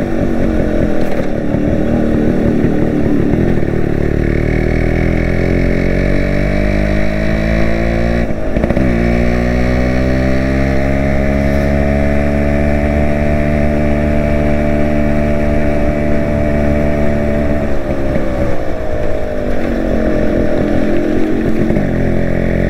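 A Yamaha RX135 two-stroke motorcycle is ridden, its loud, close engine buzzing continuously as the pitch rises and falls with gear changes and throttle, with brief wind bumps throughout.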